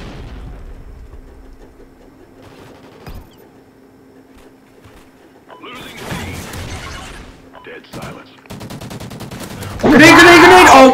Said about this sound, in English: that's gonna explode on me